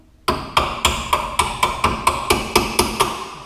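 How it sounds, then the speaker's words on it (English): Hammer blows drive a bolt through a rear coil spring mount on a 1981 Ford Fairmont, about eleven evenly spaced metallic strikes, close and ringing slightly. "Hit it a little bit with your hammer."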